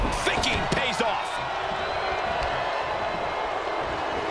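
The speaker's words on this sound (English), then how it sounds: "The sound of this crowd is deafening" Crowd noise in the WWE 2K22 wrestling video game, a dense steady arena roar with a few sharp thuds and cheers near the start, carrying on continuously under a commentator's voice.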